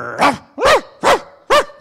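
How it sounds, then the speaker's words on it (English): A dog barks four times in quick succession, loud and close, each bark short and evenly spaced, with no other sounds around it. "Nice doggy."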